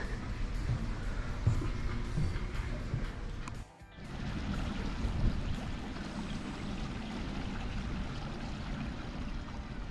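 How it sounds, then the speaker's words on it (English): Wheeling Creek flows beneath a wooden queen-post covered bridge, a steady broadband rush of water, close and continuous with a brief dip midway. "the Wheeling Creek as it heads on underneath this covered bridge here"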